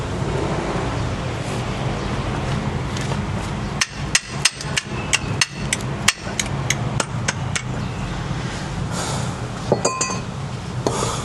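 A hammer strikes metal parts during a 4x4 transmission overhaul, a series of sharp, ringing metallic blows in uneven bursts, some quick and clustered, over a steady workshop background hum.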